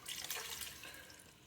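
About eight cups of beef stock pour into a pot for an Irish stew with lamb and beef, a steady close rush of liquid with no talk.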